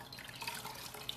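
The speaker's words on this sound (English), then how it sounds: "I'm going to completely submerge my washcloth into it" A washcloth is pushed under hot water in a metal bowl and wrung out, giving a soft, close trickle and splash of water with faint drips.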